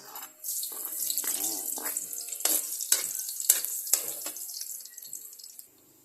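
Onions sautéing in a pan for sinigang, a broad frying hiss with bursts of stirring and scraping that runs for about five seconds, close and fairly loud, then drops away.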